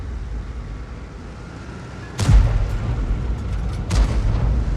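A tank cannon firing in World of Tanks, heard as two heavy booms about two seconds apart over a constant low engine rumble, each blast loud and close with a short decaying tail.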